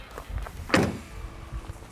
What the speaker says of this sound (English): Then we can close the tailgate.